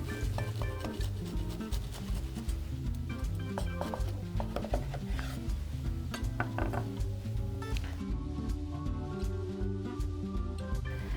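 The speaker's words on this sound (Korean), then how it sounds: "또 반으로 썰어주세요." A knife slicing a BLT sandwich in half on a cutting board, giving soft, brief cutting taps and light clinks, heard under steady background music with no talking.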